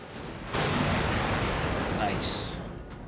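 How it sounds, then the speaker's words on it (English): A heavy explosion booms in the space game X4: Tides of Avarice, a broad rumbling blast that swells and sustains, with a sharper burst near the end before fading. "Explosion imminent."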